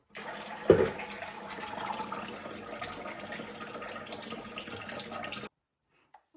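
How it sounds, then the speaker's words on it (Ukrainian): Water runs from an outdoor tap into an empty container in a yard, a steady splashing stream with a brief louder gush near the start, continuing evenly before cutting off abruptly. "Треба набирати воду."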